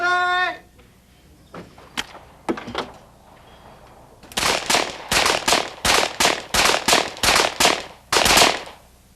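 Shots ring out at a 1994 Tasco barricade shooting competition: a few scattered cracks, then a rapid string of about ten sharp, loud reports in quick succession.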